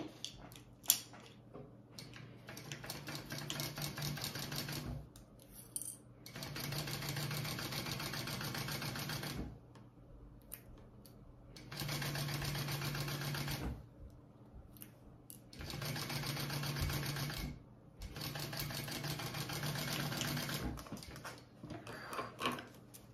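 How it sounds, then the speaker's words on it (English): A sewing machine stitches a quarter inch seam on a fabric bag, running in several steady bursts of a few seconds each with short quiet pauses between them. "we are going to sew along here at a 1/4 inch seam allowance."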